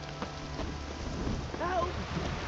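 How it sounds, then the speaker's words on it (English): Steady rainfall with a low rumble of thunder in a swampy setting in The Witcher 3, a soft continuous patter at modest volume that swells slightly toward the end. "If it don't stop raining, my arse will rot off."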